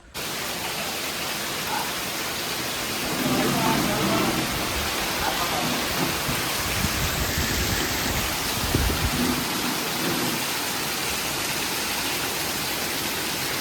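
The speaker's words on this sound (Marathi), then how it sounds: "बघा पाऊस गावाला जबरदस्त पडतोय." Heavy monsoon rain pours down over a green village, a dense, continuous hiss of steady downpour that swells slightly midway, with faint voices underneath.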